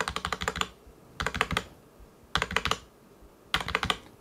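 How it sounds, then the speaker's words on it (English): Four quick bursts of typing on a soft, muted ADX Firefight A04 membrane gaming keyboard, each a rapid cluster of keystrokes separated by brief pauses, close and dry, without ringing. "let's listen to some of the keyboard noises"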